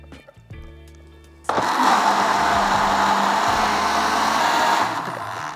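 A kitchen blender kicks on abruptly and runs steadily at high speed, whirring loudly as it purees a batch of hummus, after a quieter moment beforehand.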